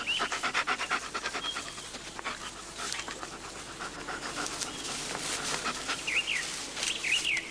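Police dog panting steadily and rapidly outdoors in rough gully terrain, with birds chirping faintly in the background.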